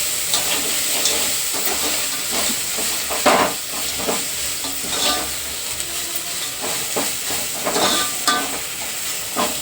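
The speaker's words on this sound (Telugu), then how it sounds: "ఒక వన్ అండ్ హాఫ్ స్పూన్ అల్లం వెల్లుల్లి పేస్ట్ ఇది కూడా కొంచెం పచ్చివాసన పోయేలాగా వేయించేసుకోవాలి" Ginger garlic paste frying in a pan, a continuous close sizzle and hiss with scattered scraping stirs throughout, no voices.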